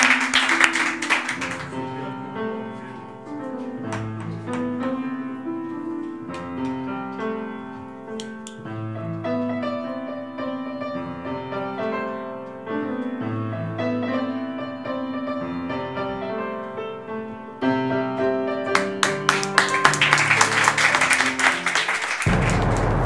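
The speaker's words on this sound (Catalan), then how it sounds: "Un aplaudiment per en Marçal i per la Neus." A television studio audience claps briefly at the start and again, louder, near the end, with music playing in between and under the applause.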